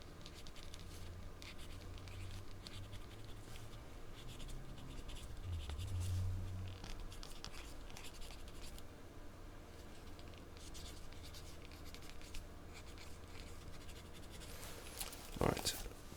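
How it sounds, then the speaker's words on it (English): A pen scratches across paper as measurements are jotted down during a soft-spoken ASMR full-body measuring session, making a steady, close, quiet scratching for the whole stretch with a few faint thumps and a louder tap near the end. "I will write those down."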